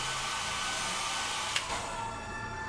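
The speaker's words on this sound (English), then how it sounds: "with the help of a hair dryer, I'm gonna dry out that tissue paper like this" A hair dryer blows continuously, drying tissue paper and glue on skin for a Halloween makeup look, a steady close whooshing hum with a brief bump partway through and no talk.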